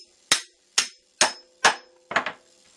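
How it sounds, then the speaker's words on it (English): Heavy cleaver striking through a chicken knuckle, five sharp, loud chops at even intervals, the last a quick double hit, clean and close with no talking. "Now you take the cleaver, you put in the knuckle"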